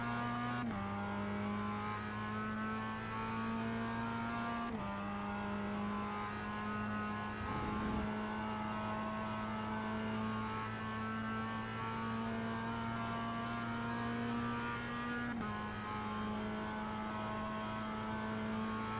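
A Mazda MX5 race car drives a practice session at Phillip Island, its engine droning loud and steady from inside the cockpit, with a few abrupt shifts in pitch as it changes gear.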